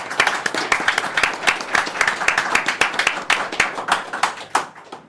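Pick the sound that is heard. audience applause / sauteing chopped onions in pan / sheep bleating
audience applause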